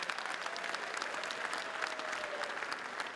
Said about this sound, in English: A big round of applause for these guys.